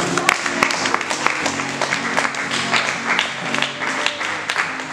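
An audience at a French-language religious gathering applauds: a dense, steady patter of many hands clapping, fairly loud throughout, with faint voices underneath.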